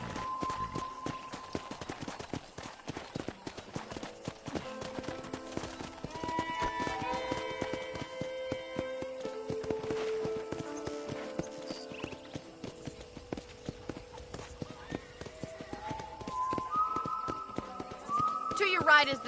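Horse hooves clip-clop at a steady walking pace in Red Dead Redemption, under light background music and occasional whistling, with a game-like, synthetic quality.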